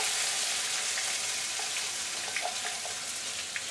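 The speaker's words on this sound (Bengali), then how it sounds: "লেজটা ভাজবো, এই জন্য একটু তেল দিলাম।" A paste of onion and green chilli fries in oil in a pan while a spoon stirs it, giving a steady close sizzle with faint scraping clicks and no talking.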